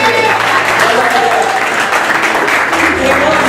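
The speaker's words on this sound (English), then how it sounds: "A big round of applause to our distinguished panel." A crowd applauds a panel of speakers at an event on African American women in cinema, dense, loud clapping with voices mixed in throughout.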